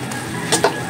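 Dried fish going into chop suey in a hot pan, a loud close sizzle with a couple of brief stirring scrapes and clatters, no one talking.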